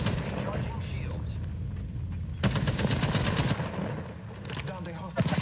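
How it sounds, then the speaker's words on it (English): Enemy gunfire in the video game Apex Arenas: loud, continuous automatic weapon bursts that rattle on steadily, break off and then resume with fresh volleys. "I am taking fire, friend."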